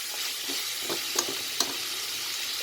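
Onions fry in oil in a pan on a stove with a soft, steady hiss, punctuated by a few light taps and clicks from stirring, heard up close.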